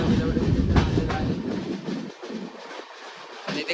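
A train rolls into Vilavade station in Konkan country. A loud rumble and clatter heard from on board eases off after about two seconds, leaving quieter rolling noise.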